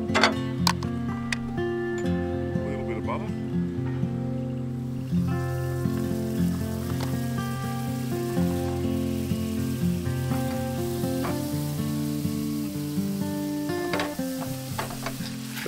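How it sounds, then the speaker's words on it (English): Egg frying in a pan on a camp stove, a steady sizzle with irregular ticks and pops, loud and close, with a few clinks early on as the pan returns to the heat. "the egg's been on for about a minute, so we'll just get the pan back on the heat"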